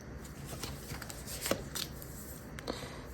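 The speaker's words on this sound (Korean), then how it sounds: "카드 뽑아보겠습니다" Tarot cards shuffled and drawn close up, a continuous soft riffling and sliding of card stock with a few crisp snaps, quiet and steady throughout.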